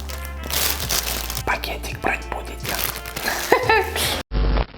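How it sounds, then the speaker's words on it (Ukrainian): Crinkly plastic rustling and crunching up close as fish is put back into a plastic bag, with short bursts of handling noise and a voice speaking over it. "засунемо рибу назад в пакетик."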